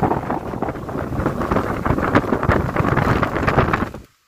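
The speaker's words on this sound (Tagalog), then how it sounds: "Sobrang lakas kasi ng hangin." Strong wind roars and buffets the microphone in loud, continuous gusts, then cuts off abruptly near the end.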